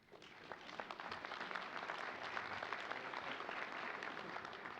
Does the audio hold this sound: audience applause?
yes